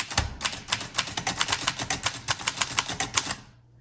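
Rapid keystrokes on a 1948 Underwood Champion portable manual typewriter, a brisk uneven run of about twenty sharp metallic clacks close up, ending abruptly with a brief quiet tail.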